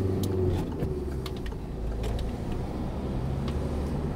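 A car pulls along in second gear during a driving lesson on the approach to a fast road, its engine a steady low drone under road and cabin noise, with faint clicks and creaks inside.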